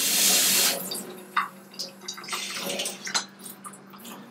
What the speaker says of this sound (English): Water's still a little warm, so I'll add some cold water.